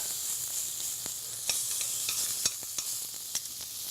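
Meat browns in a hot pan with a steady broadband sizzle, punctuated by scattered sharp pops and light scraping taps, close and continuous, no voices.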